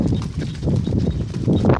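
A herd of cows and buffaloes running along a single farm track, their hooves thudding in a quick, continuous close patter.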